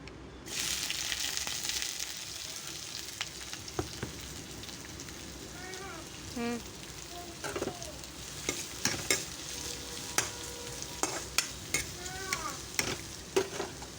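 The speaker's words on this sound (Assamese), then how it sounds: "এতিয়া মই একেখন কেৰাহীতে মাছখিনি পিঁয়াজেৰে ভাজি লওঁ।" Fish and finely chopped onions fry in a kadai with a continuous crackling sizzle. Sharp clicks and scrapes from stirring keep cutting through, and faint voices sound in the background.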